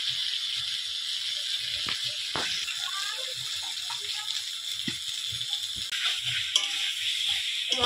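Fried fish being stirred in a pan into a yogurt spice masala, with wet scraping and soft sizzling, irregular stirring strokes and light clatter at close range.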